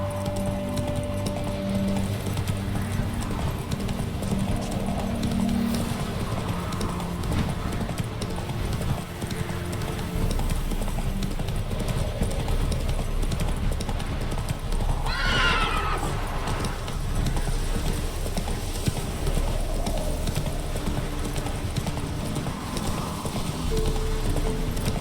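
Roach the horse in The Witcher 3 gallops with steady clip-clop hoofbeats throughout, breaking into one clear, loud neigh partway through, over a constant outdoor game ambience.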